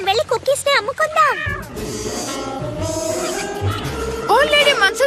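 A cartoon cat meows and yowls in a few drawn-out, wavering cries, loud and close, alternating with animated character voices speaking over a busy soundtrack.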